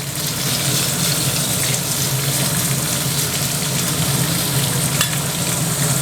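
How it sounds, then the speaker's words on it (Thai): Pork fat renders slowly in a splash of frying oil over low heat, giving a steady, even bed of soft sizzling and bubbling that runs unbroken throughout at moderate, close level with no voices. "เราจะใส่น้ำมันนะครับ ที่เราใช้ทอดนะครับ ลงไปเป็นเชื้อนิดหน่อยนะครับ เพื่อให้เร่งให้อ่าเจ้ามันหมูออกมาจากมันหมูเรานะครับ"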